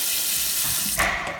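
A kitchen tap runs steadily at reasonable pressure, a continuous hiss of water into the sink that grows slightly louder and brighter near the end.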